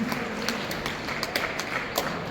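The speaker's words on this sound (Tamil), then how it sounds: "எங்கே உங்கள் கைத்தட்டல்கள் கேட்கட்டும், மழையாக" Audience applause at a Tamil music event in Oberhausen, Germany, a steady wash of many hands clapping with scattered sharper claps, continuous and fairly distant for the whole stretch.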